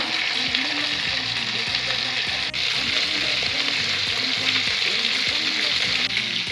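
Rump steak frying in a pan with rosemary and garlic, a steady close sizzle with crackling spatters running throughout, loud and unbroken with no one talking.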